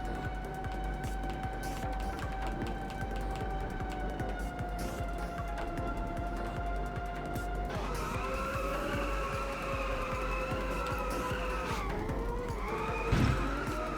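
A racing car drifts in the Inertial Drift video game: an engine drones on steadily with tire squeal, the pitch shifting as it slides, under continuous game sound with no talk.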